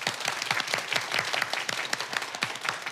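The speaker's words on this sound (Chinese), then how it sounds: "掌声鼓励" Audience applause from a live talk-show crowd, dense steady clapping that holds for about three seconds with no speech over it.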